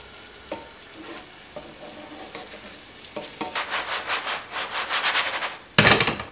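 Butter melts and sizzles around a stovetop pasta börek in a pan, a soft frying hiss overlaid with rhythmic scraping bursts that build, ending in a sharp, loud flare of sizzle.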